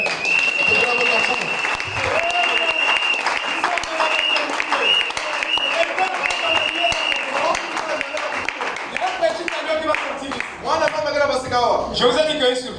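A church congregation applauds in loud, sustained clapping that fills the room while a voice speaks over it.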